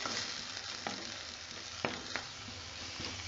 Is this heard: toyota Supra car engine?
no